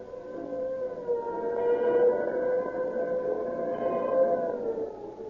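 A police car siren from an old radio drama, a loud wailing tone that rises and falls steadily, sustained throughout with no talk over it.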